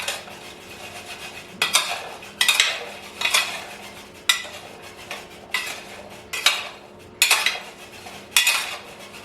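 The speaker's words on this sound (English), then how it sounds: "Stir it all. Make sure it's all coated, both with the oil and the spices." A metal spoon stirs chickpeas with oil and spices in a pan or bowl, giving repeated sharp scraping and clinking strokes at a steady rhythm, close and fairly loud, with no talking.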